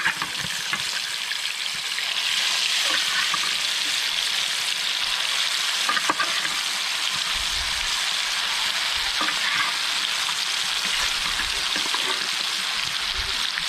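Fish frying in oil in a pan gives a loud, steady hissing sizzle with scattered pops and crackles, continuous and close, with a few spatula scrapes and taps along the way.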